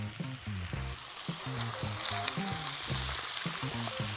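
Onion going into a hot pan at an outdoor cooking spot, giving a steady loud sizzle and frying crackle with low tonal clatter throughout, no voices.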